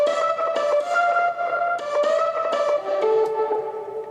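A synth lead support layer plays solo, a bright melodic line of sustained notes with slight pitch movement and a few articulated changes, steady and close with no voices.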